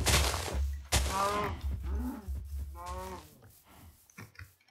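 A cow in a video game moos several times in succession, drawn-out groaning calls with breaks between them, loud and close with no talk over them.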